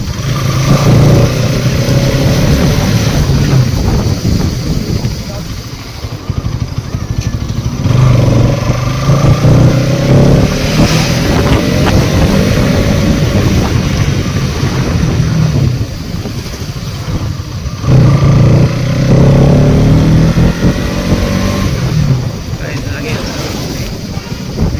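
A motorcycle riding along a village road, its engine droning steadily and loudly throughout under heavy wind buffeting on the microphone, with slight surges as the throttle changes.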